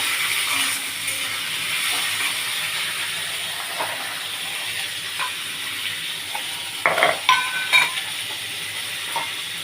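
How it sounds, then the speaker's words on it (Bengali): Soaked chickpeas are stirred in a frying pan, giving a steady sizzle and hiss with a few soft scraping knocks near the end, alone without speech. "ছোলাটাও ওর সঙ্গে দিলাম, কেন কাঁচা গন্ধ ছাড়বে বলে, ওই জন্যে ছোলাটা দিয়ে নেড়ে নিল।"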